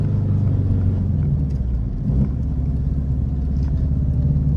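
Built Subaru WRX running 27 psi on pump gas, its exhaust giving a steady loud low rumble close by, with a few faint pops and crackles over the drone and no voices.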